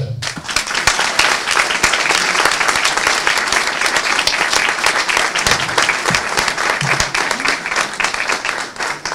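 A large audience at a Women's Day gathering in Sicily gives loud, continuous applause that holds steady from start to finish, with faint voices mixed in.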